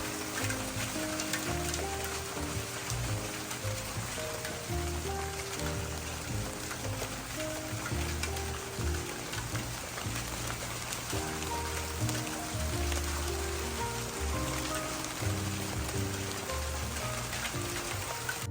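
Rain falls on a garden at night as a steady, dense hiss of drops on leaves and ground, continuous and fairly close, with soft music playing underneath.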